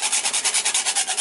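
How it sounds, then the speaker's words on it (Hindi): Nutmeg grated into palak paneer, heard as a steady run of short rhythmic rasping strokes, about ten in quick succession, close and clear with no talking. "अब मैं हल्का सा नटमैग घिस के डाल रही हूँ"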